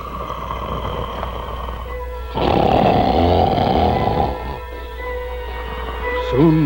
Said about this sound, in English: Soon the wicked giant was fast asleep, and the castle trembled with his snores.